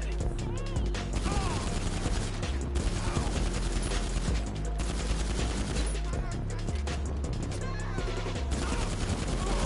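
Heavy gunfire in GTA Online, rapid automatic bursts and overlapping shots going almost nonstop at close range, with a voice heard among the shooting.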